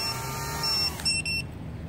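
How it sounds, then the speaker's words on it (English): A KingKong Fly Egg 100 drone on a 3S battery gives a short cluster of high, electronic buzzer beeps about halfway through, clear and close over a faint steady background hum. "The buzzer."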